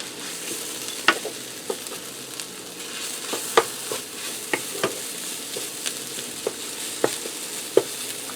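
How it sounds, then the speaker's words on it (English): Flour cooks in meatball grease in a pan for mushroom gravy, a low steady sizzle marked by regular utensil scrapes and knocks against the pan roughly every half second, with no voices. "You just want to cook it for a minute or 2 to get the flour taste out of it."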